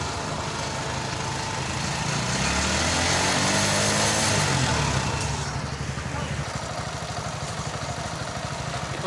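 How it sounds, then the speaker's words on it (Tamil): A TVS XL 100 BS6 moped with its EOT sensor wire disconnected runs at a steady idle, its low engine chug continuous and close, with a slight rise and fall in revs midway. "இப்போ பார்த்திங்கன்னா வண்டி வந்து ரன் ஆகிட்டு இருக்கு."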